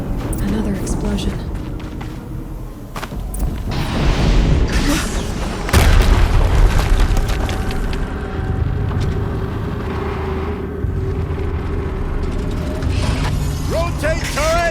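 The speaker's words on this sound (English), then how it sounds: "Another explosion." Booming explosions from the video game Horizon Zero Dawn, several heavy low rumbling blasts with a large burst near the middle, layered over game music and effects with a voice talking over them.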